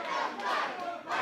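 A crowd at a live wrestling event shouts and roars continuously, a loud, dense wall of voices that surges toward the end.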